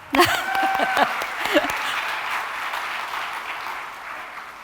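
An audience at an LGBTQ history awards ceremony breaks into applause after a brief spoken remark, the clapping swelling and then slowly fading.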